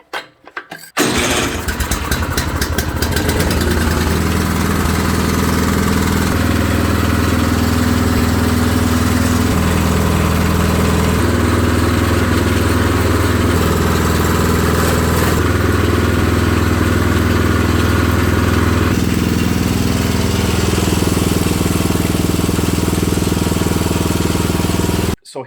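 A Craftsman snowblower engine with an electric chute fault cranks and catches, then runs loud and close for the whole stretch, its steady roar shifting pitch a few times as it idles and revs.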